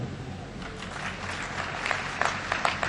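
Audience applause at an Urdu poetry recital, steady clapping from a seated crowd that swells slightly toward the end, moderately distant and alone without talk.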